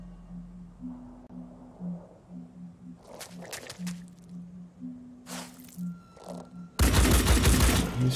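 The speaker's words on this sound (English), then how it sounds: "He's shooting the crate." Gunfire aimed at a crate in the video game Phoenix Point: a few sharp bursts, then a loud sustained fusillade near the end, over low game hum and ambient tones.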